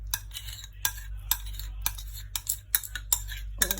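A utensil stirs three eggs, butter and sugar together in a bowl for a banana cake, irregular sharp clinks and scrapes against the bowl over a low steady hum, close and fairly quiet.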